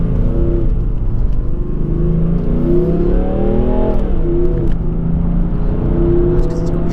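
A BMW 435d xDrive diesel coupe, 770 Nm of torque, accelerates hard with a rising engine whine that climbs in pitch, drops at a gear change and climbs again, heard from inside the car with a steady road roar underneath.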